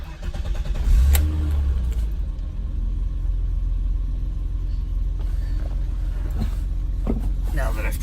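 A BMW E30 engine turning over and catching with a low rumble near the one-second mark, then idling steadily with a deep drone, heard from inside the car.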